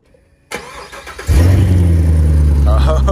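A Chevrolet C7 Corvette with an NPP exhaust is started by remote: a click, a whirring crank, then the engine catches with a loud, deep rumble and settles into a steady idle nearby.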